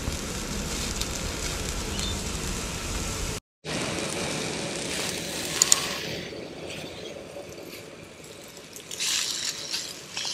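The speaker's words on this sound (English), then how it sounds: "There is seriously plenty of heat in this gas cooker." A JetBoil MiniMo gas cooker burning under a Summit skillet gives a steady close roar of flame with sizzling, briefly cut out once, then continuing with small clicks.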